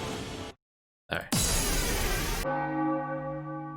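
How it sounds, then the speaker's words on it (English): A bell sound effect from the RPG Maker MV sound library rings out loud and alone, one sharp clanging strike whose bright, tonal hum fades slowly after a short burst of noise. "That's a bell, not a beep or a boop."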